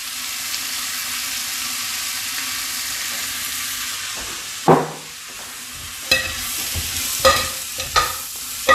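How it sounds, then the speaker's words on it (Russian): Carrots and dried garlic sizzle in an Afghan kazan while being stirred, a steady hiss broken by several distinct scraping strokes of the utensil in the second half. "Перемешиваем"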